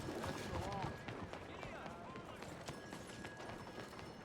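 Hooves clip-clopping at a run from a horse in the Red Dead Redemption 2 video game, a steady galloping rhythm over busy game ambience, with a neigh near the start and a voice talking over it.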